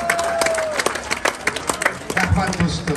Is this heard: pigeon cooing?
no